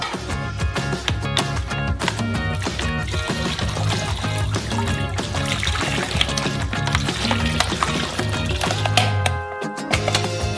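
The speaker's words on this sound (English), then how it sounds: "We will also pour out a whole bottle of lemon juice." A whole bottle of lemon juice poured out in a steady, loud glugging stream into a crayfish cooking mix with paprika and salt, continuous for about ten seconds before stopping abruptly.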